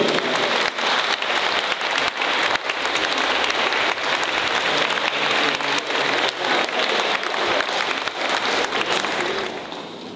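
An audience claps for the designer at the "Eclectica" fashion show at the Jules Pascin cultural centre in Vidin. The applause is dense and sustained for about ten seconds, then fades slightly at the end.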